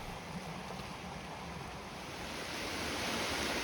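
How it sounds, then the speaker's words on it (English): Steady rushing river water fills the scene, a continuous broadband wash with no voices, constant and fairly close. "Finally, the sound of the water surrounds me."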